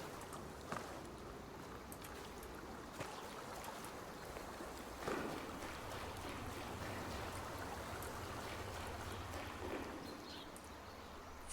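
Video game waterfall in Chop Chop Inc, a steady, quiet rushing water wash with faint clicks and soft thuds scattered over it, no talking.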